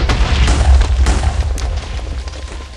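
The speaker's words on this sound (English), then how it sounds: "I'm just going to put lots of TNT all around this one remaining cannon" TNT detonating around a cannon in the Minecraft Movecraft game: a cluster of deep, rumbling booms in quick succession, loud and close, fading slightly toward the end.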